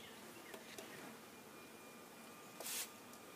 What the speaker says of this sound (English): There are bees. A lot of bees.